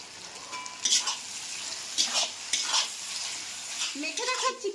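Chopped capsicum stirred into a sizzling spice masala with oil in a pan, a soft continuous frying hiss broken by scraping stirs of a spoon against the pan, close and moderate in level.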